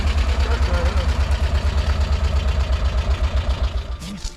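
Close and loud, the engine of a 1972 VW Panel Bus idles a little rough with a steady, fast low-pitched thrum and slight unevenness, then drops off near the end.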